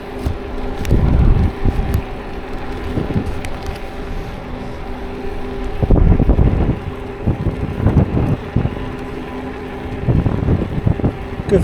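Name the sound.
wind noise on the microphone outdoors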